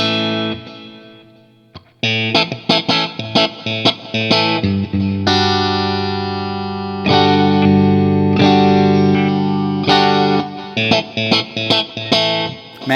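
Electric guitar with effects played through its pickups, switching between positions 2 and 4, strummed chords and ringing notes with chorus and distortion, loud and close with no talking.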